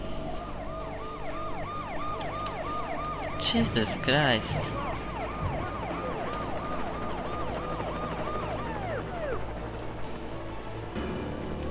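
Police car sirens wail in the Alan Wake video game during a chase, several overlapping rising-and-falling tones running steadily throughout, with a brief louder burst midway and a voice exclaiming once.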